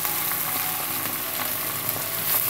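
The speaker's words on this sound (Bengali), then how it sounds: "তো মাশরুমটা পেঁয়াজ সহ জাস্ট 2 মিনিটের মতো ভেজে নিতে হবে।" Mushrooms and onions fry in a pan with a steady, dense sizzle, close and even throughout, with no talking.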